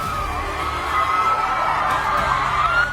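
A roadside crowd of fans cheers and shouts continuously, a dense, loud wash of many voices that holds steady throughout.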